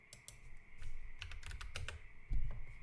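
Typing on a computer keyboard, a close run of quick irregular key clicks and taps with a few heavier strikes, steady over nearly three seconds with no talking.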